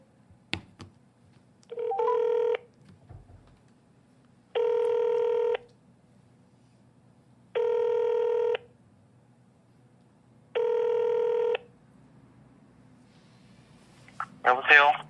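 Telephone ringback tones as a call is connected for a podcast: four evenly spaced rings, each about a second long, with a brief voice at the end.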